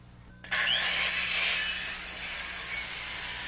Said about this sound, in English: After snapping a line and cutting the lookouts to length, Joe and I hang the barge rafters.